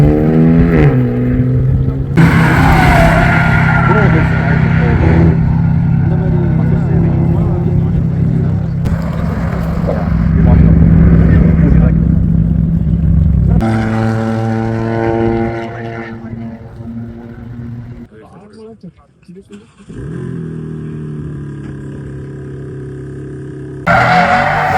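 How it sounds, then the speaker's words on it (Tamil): BMW M4 and M2, Audi R8, AMG and rally cars lap a race circuit on a track day while warming their tyres, their engines droning loudly with rising and falling revs, a brief lull near the end before the roar resumes. "அந்த ரேலி காரோட சவுண்டெல்லாம் ரொம்பவே வேறு லெவலில் இருந்துச்சு."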